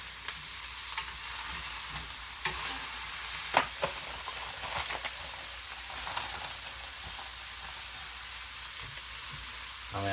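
Ham and eggs sizzle steadily in a skillet, a constant broadband frying hiss with small pops and the occasional clink of stirring, close and continuous throughout with no talking.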